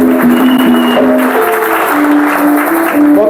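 A congregation at a church retreat applauds to acclaim the Lord with sustained, loud, dense clapping. A held sung or organ-like tone runs underneath.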